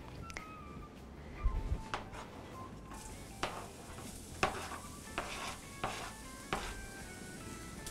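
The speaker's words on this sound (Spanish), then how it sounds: "le vamos a poner un poquito de aceite, vamos salteando la cebolla" Onion sautéing in a little oil in a hot frying pan, with a steady soft sizzle under repeated scraping stirs of a utensil against the pan, close by and fairly quiet.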